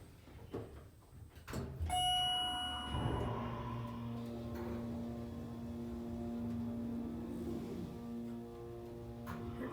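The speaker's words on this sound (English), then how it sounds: "This is the elevator at 850 Beaver Grade Road in Moon Township, Pennsylvania." Schindler 300A elevator in an older building in Moon Township, Pennsylvania, running with a steady low motor hum, preceded by a bright ringing chime and door clatter near the start, close and fairly loud throughout.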